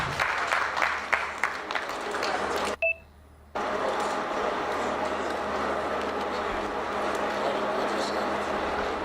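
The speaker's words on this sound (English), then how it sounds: "I think Mr. Tolagbe deserves more than what we have given him. A round of applause, ladies and gentlemen." An audience at a two-day retreat for local government chairmen, vice chairmen and officials claps steadily in a dense, sustained round of applause. The sound cuts out briefly, with two short electronic beeps in the gap, before the clapping resumes.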